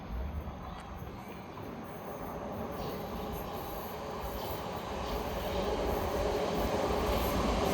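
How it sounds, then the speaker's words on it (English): A Thameslink electric train passes at South Croydon on the Brighton Main Line: a continuous rumble of wheels and motors that builds steadily louder over several seconds, with faint high rail hiss above it. "another Thameslink going from Cambridge to Brighton"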